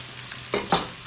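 Onion and tomatoes frying in a pan, a brief soft sizzle with a couple of stirring scrapes, close and moderately quiet.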